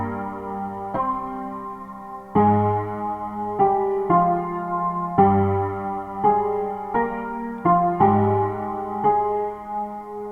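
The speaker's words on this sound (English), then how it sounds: "First one instrument that I just use a honky tonk piano." Honky tonk piano instrument in BandLab playing a trip hop melody, with slightly detuned, bright chordal notes struck in a steady, relaxed rhythm, moderately loud and alone.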